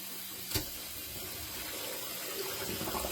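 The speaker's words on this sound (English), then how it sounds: "add some cold water to this." Cold tap water runs steadily into a pot of oxtails in a home kitchen, a soft continuous hiss and gurgle with a brief clunk early on, fairly quiet and with no talking.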